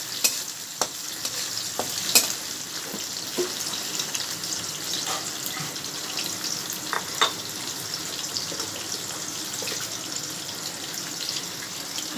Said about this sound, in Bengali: পটল চিংড়ি বসানো হচ্ছে